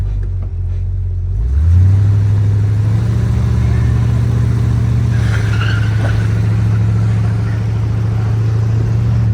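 A 1967 Dodge Polara's 383 engine starts up and idles roughly with a steady, loud low rumble that sounds uneven, carrying on for several seconds with no talking.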